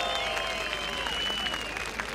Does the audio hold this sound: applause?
yes